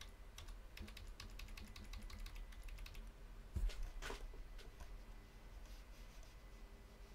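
Quiet, quick clicking keystrokes on a computer keyboard come in irregular bursts, with one slightly louder tap midway, and no voices.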